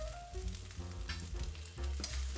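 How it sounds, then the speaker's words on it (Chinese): Carrots, ham and shrimp stir-frying in a wok for shrimp egg fried rice, a steady close sizzle with scraping and tossing as the ingredients are turned quickly, no voices. "继续快速翻炒。"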